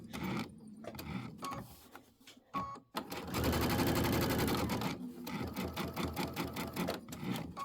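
A sewing machine stitches a mini quilt with light gray thread, bursts of rapid mechanical whirring starting and stopping, with one long steady run in the middle and short clicking stitches around it.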